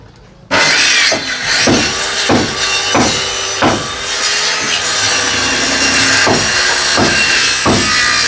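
Nails are driven into wood during home construction work, with a loud, close series of sharp, regular strikes about every half second over steady background noise.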